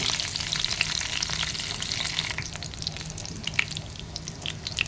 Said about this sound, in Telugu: పొయ్యి మీద కడాయి పెట్టేసుకొని ఆయిల్ వేసుకొని వెల్లుల్లి జీలకర్ర ఆవాలు ఎండుమిరకాయలు కరివేపాకు వేసుకొని వేయించుకోవాలి